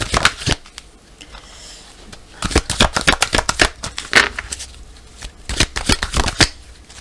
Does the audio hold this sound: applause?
no